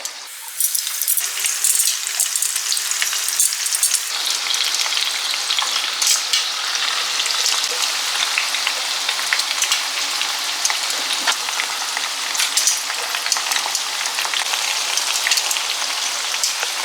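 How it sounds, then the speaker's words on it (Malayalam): Pieces of chicken for dragon chicken deep-frying in hot oil, a dense, even sizzle like heavy rain that starts a moment in and holds close and constant, with no one speaking. "അപ്പോൾ നമ്മുടെ ചിക്കനൊക്കെ നല്ല അടിപൊളിയായിട്ട് ഫ്രൈ ചെയ്തുകൊണ്ടിരിക്കുവാണ്."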